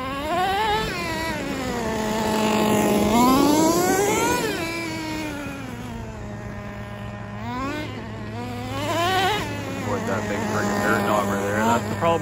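A Traxxas T-Maxx 2.5 nitro RC truck engine buzzes loudly and continuously on a gravel and dirt pit area, its high whining pitch rising and falling with throttle blips as it warms up.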